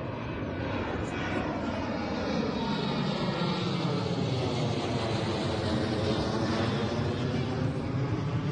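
A fixed-wing airplane flies near Birmingham airport with a loud, continuous engine roar that slowly shifts in pitch as it passes overhead, heard alone without talk.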